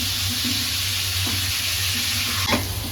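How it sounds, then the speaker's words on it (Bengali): Onions frying in a pan for chicken pulao fill the clip with a loud, continuous sizzle, broken by a couple of brief scraping stirs near the end. "আর এখানে পেঁয়াজ বেরেস্তা করতেছি মুরগির জন্য"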